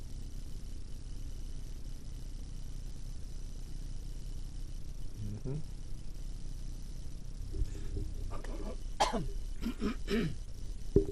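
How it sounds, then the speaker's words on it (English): After a stretch of quiet background hum, someone coughs several times near the end, sharp and close, in a short uneven burst. "Do apologise if I keep coughing. Got a tickly cough at the moment."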